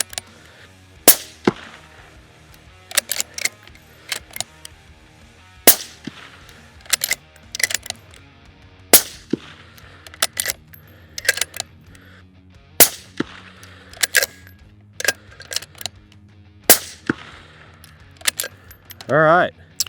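A 6mm Dasher competition match rifle firing at targets outdoors, a long series of sharp, loud cracks spaced irregularly a few seconds apart, with quieter handling noises between shots.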